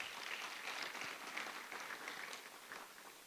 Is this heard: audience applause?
yes